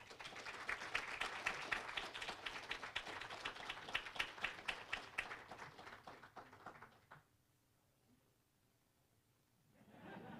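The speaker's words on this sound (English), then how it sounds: "please give her a warm round of applause" An audience at an invasive species summit gives sustained applause for a speaker, dense and steady for about seven seconds before fading out. A voice briefly resumes near the end.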